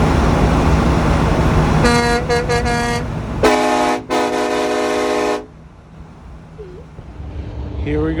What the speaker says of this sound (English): see if our horn is louder than his